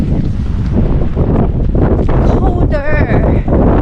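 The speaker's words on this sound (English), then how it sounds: "Feels like the wind is whipping." Strong, cold wind buffets the microphone outdoors in Ireland, roaring loudly and continuously. A person talks underneath the rushing gusts.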